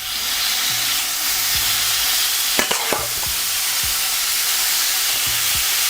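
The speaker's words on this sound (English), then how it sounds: "Looking for a nice brown color on the steak." Steak searing in oil over medium-high heat for pepper steak, a loud, dense, continuous sizzle with a cluster of sharp metallic clinks and scrapes midway.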